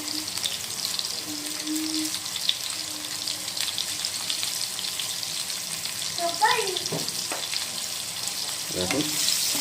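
Salted, turmeric-dusted potatoes frying in a pan for a jackfruit curry, giving a steady, close sizzle of hot oil throughout, with a few clinks and stirring sounds near the end.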